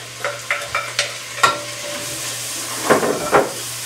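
Shrimp and garlic in a hot pan give a steady close sizzle, broken by several sharp stirring scrapes and clatters, a short run of them early and a couple more near the end.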